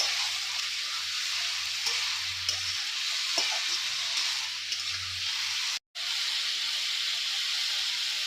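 Ginger-garlic paste and salt are stirred into long beans frying in a pan. A steady, close sizzle continues throughout, with faint scraping stirs on top and a momentary dropout near the end.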